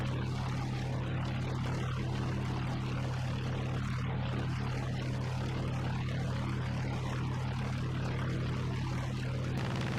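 A Stirling bomber's propeller engines drone in a flight video game, a loud, constant, even hum with a strong low tone that holds steady from start to finish with no other sounds.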